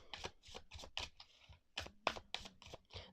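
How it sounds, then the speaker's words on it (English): A deck of thick-cardstock playing cards with rainbow-patterned backs is shuffled by hand, giving a run of close, crisp riffling bursts in a quick, uneven rhythm, with no talking. "So let's go ahead and shuffle."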